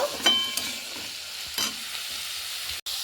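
Beans, peas and capsicum sizzle in a pan for vegetable soup while a utensil stirs them, giving a few scraping strokes over a steady frying hiss, close and alone.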